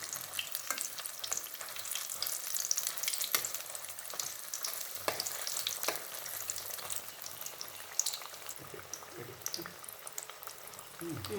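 Pumpkin bajji deep frying in oil and being turned, a continuous bubbling sizzle with occasional clicks and scrapes from the turning, with a voice speaking now and then.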